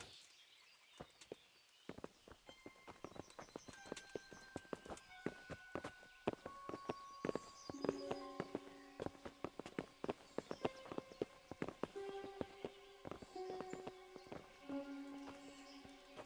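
Horse hooves clip-clop in Kingdom Come: Deliverance, a steady run of hoof strikes at moderate distance, mixed with sustained musical tones and faint bird calls.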